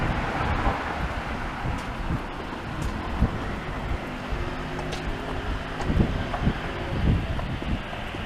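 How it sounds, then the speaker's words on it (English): Wind buffets a microphone outdoors on a Blackpool street despite a small sponge cover, producing continuous loud, low, rumbling gusts with irregular thumps and swells throughout. "I do have my little bit of sponge over my microphone, but the wind is still blowing directly into me"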